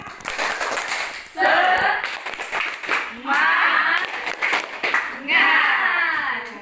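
A group of children in a classroom performs a tepuk semangat, a rhythmic spirit clap. Three bursts of patterned clapping and chanting sound close and lively, with someone speaking in the pauses between them.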